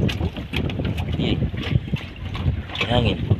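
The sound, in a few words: wind blowing at sea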